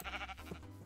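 A sheep bleats once in Minecraft, a short, wavering bleat that is faint and close.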